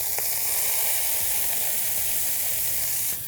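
Venison burger patties sizzle loudly as they are smashed into a hot iron skillet over a fire pit. A steady, close frying hiss runs throughout with no talk.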